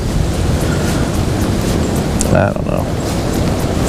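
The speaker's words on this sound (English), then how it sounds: "In fact, a lot of times it's good to have some wind." Steady, loud wind roaring across a choppy lake surface, a constant broadband rush with lapping water underneath and a brief quiet spoken remark partway through.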